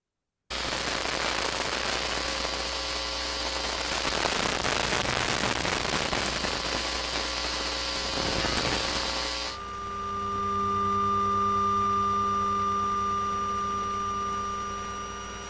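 Output of an electromagnetic listening device such as an Elektrosluch or Priazor: dense crackling, hissing noise that abruptly shifts to a steadier electrical hum with sustained tones, loud and continuous throughout.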